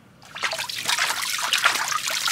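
Water trickles and splashes steadily while dogs are bathed in a small tub, a close, continuous patter of running water with no talk over it.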